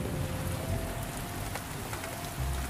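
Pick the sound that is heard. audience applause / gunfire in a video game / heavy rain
heavy rain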